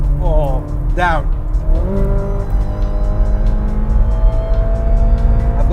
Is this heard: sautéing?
no